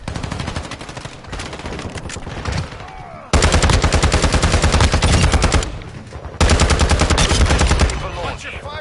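Rapid automatic gunfire from the video game Modern Warfare 2, loud and close in two long sustained bursts with shorter shots and a quieter stretch between them.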